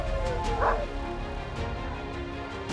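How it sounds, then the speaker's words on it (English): Sled dogs yip and bark in the background before their team leaves on a wintry morning, short excited calls scattered over a constant low hum, fairly distant and modest in level. "You can hear her dogs in the background."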